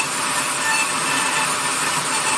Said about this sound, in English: since I've got the Typhoon in my Dremel, I'm just going to do it with that